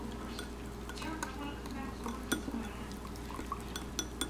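A spoon stirs cocoa powder into melted coconut oil in a bowl, giving soft, quiet scraping and light clinks against the dish at close range, steady and without talking.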